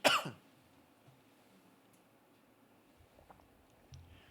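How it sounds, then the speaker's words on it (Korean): A short burst of coughing and throat clearing at the start, fairly close, during a church sermon, then quiet room tone with a few faint shuffles. "기침을 많이 했어요. 죄송합니다."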